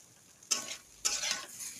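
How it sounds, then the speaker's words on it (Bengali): Lentils (dal) fry in a pan, with two bursts of sizzling and stirring scrapes about half a second apart over a quiet background. "রান্না এখন দেখুন ডালটা ভাজছে লাল লাল করে"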